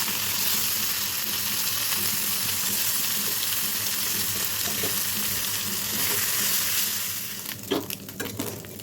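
Pieces of fish frying in oil in a Bengali kitchen pan, a dense, loud hissing sizzle that runs steadily, then is broken near the end by a few clattering knocks as the pieces are moved.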